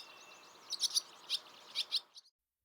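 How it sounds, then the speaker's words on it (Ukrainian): Several short, high bird chirps in a loose burst, clear but moderately distant, over a soft outdoor hiss, ending abruptly. "на дереві щебетали пташки"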